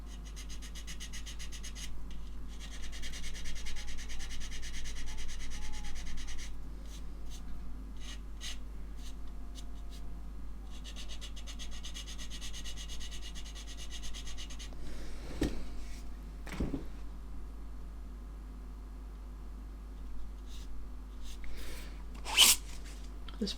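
Scratchy rasping of a sanding stick on plastic model kit seams, in bursts of steady back-and-forth strokes up close, with quieter pauses and a few sharp taps near the end.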